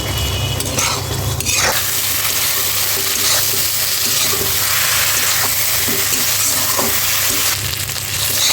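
Spice masala sautéing in a pan with oil before taro leaves go in, a loud continuous sizzle with stirring scrapes and occasional clinks, close and steady, no talk.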